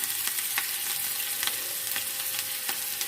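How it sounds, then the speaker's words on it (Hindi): Onion fries in hot oil with dried red chillies in a pan for masoor dal, a steady close sizzle broken by several sharp, spaced pops and spatters, with no talking. "अभी हम प्याज को फ्राई कर लेते हैं, सभी चीज़ों को भी नॉर्मल आंच पे।"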